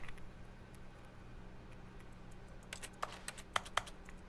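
Keyboard typing as text is entered in the video game The Stanley Parable: a handful of sharp, separate key taps, clustered near the end over a faint steady background hum, with no speech.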